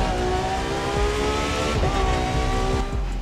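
A Dodge Hellcat's engine revs hard in The Crew 2 racing game, with a loud, sustained roar that climbs and falls in pitch and tire noise underneath, heard alone without voices.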